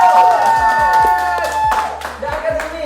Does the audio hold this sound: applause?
yes